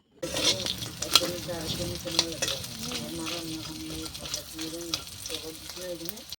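Crab frying in a kadai wok in a home kitchen at night gives a steady close sizzle with repeated stirring scrapes and clacks throughout, with a voice faintly present underneath.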